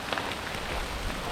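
Heavy rain pouring down at a trail running race, a dense steady wash of drops on surfaces, loud and close throughout with no talk.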